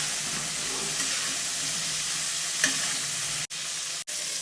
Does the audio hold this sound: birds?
no